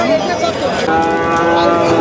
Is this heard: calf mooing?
yes